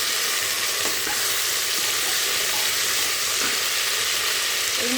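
Green beans, eggplant, potato and green chilies fry lightly in oil in a pan for khichuri, a steady broadband sizzle with occasional scrapes of stirring, close and continuous with no voices.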